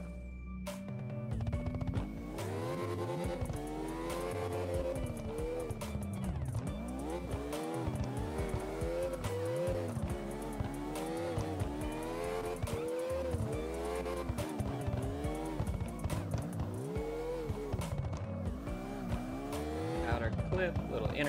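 Nissan 350Z drifting in the CarX Drift Racing video game, with an engine revving up and down in repeated surges and tires squealing through the corners, running loudly and continuously throughout.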